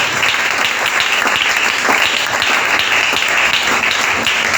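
A seminar audience in a church setting applauds loudly and steadily, dense clapping filling the space throughout with a few faint voices mixed in.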